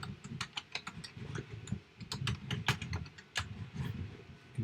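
Typing a course URL on a computer keyboard: a quick, uneven run of light key clicks, close and quiet, with no one speaking.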